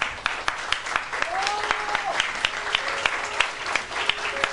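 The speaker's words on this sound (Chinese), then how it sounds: "再一次用你的掌声献上你们的祝福" Wedding guests applaud in a steady burst of clapping, loud and close, with a few voices mixed in.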